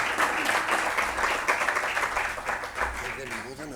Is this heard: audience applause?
yes